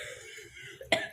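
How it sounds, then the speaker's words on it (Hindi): A woman gives a single sharp cough near the end, loud and close, after a stretch of quiet room tone. "खांसी इतनी बढ़ गई,"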